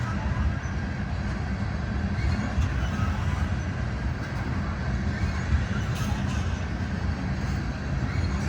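A long BNSF freight train rolls past Castle Rock, Colorado, giving a steady rumbling roar of wheels on rails that holds at an even, fairly close level throughout.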